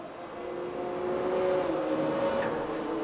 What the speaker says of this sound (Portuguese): Ouça o som dos carros.